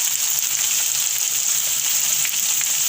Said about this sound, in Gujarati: હવે એમાં આપણે મીઠું નાખી દઈશું સ્વાદ પ્રમાણે અને હળદર નાખી દઈશું